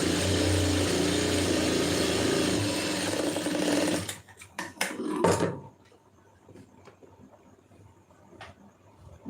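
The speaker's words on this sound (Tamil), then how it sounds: "இப்போ இதில் வந்து ஒரு தையல் ஓட்டிடுவோம்." A sewing machine runs a steady, continuous stitch through fabric during tailoring for about four seconds, then stops, leaving a few soft handling clicks and near-silence.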